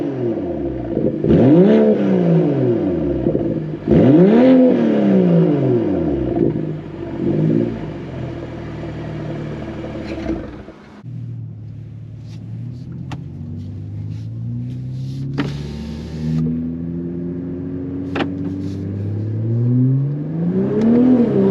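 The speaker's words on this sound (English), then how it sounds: "Get a few clips of the car revving on idle." A 2022 BMW M340i with a muffler delete revs from idle outside: several loud rising and falling revs, then a lower rumbling idle with a final rev, close and prominent.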